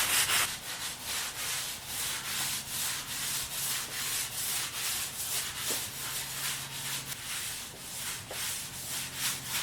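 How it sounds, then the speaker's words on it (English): A brush scrubbing a chemical-treated concrete floor in a brewery garage, with rhythmic back-and-forth rasping strokes, close and steady, repeating about twice per second without talking. "Once I get the floor a good scrub,"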